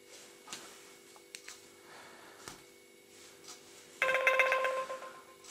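An Atongm W008 smartwatch placing a call through Hangouts, producing a steady electronic ringback tone about four seconds in that sounds for over a second above faint background hum.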